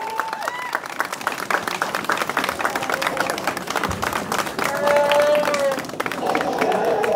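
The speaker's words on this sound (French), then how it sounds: "On peut les applaudir encore une fois." Convention audience applauding guest stars Robert Picardo and Jonas Suotamo: sustained, moderately near clapping from a large crowd with some cheers and a voice briefly heard over it.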